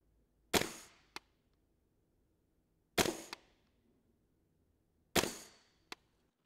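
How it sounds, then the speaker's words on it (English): A UNIT4 marker fires three spaced shots while being sighted in. Each sharp, loud crack is followed by a short tick about half a second later, with quiet pauses between the shots. "So let's take some shots and then we'll go down and take a look at the grouping."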